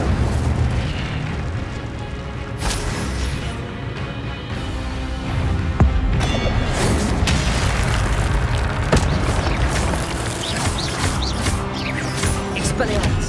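Incendio fire spell blasts in Hogwarts Legacy go off as repeated booming bursts within a dense, constant layer of battle noise, with voices heard at times throughout.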